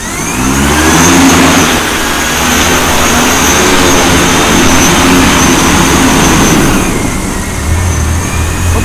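A Ceres 10S agricultural spray drone's motors power up for takeoff, producing a loud, steady, close rotor roar with a whining tone that holds for several seconds and then eases slightly.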